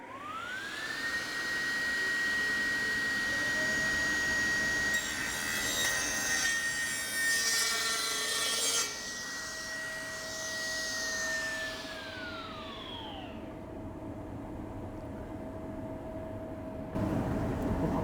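A sliding table saw runs with a steady high whine as its slightly dull blade rips through wood for a rough sizing cut, the pitch dipping under load before the motor winds down.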